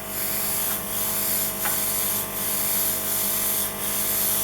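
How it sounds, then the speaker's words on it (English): A steady, close airbrush hiss sprays continuously along the bottom edge of a cake, pulsing slightly in strength over a constant compressor drone. "I'll spray the bottom edge here."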